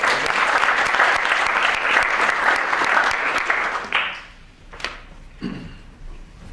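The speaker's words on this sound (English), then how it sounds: "Round of applause." Steady applause from a crowd for about four seconds, then it fades into a few scattered claps and room noise.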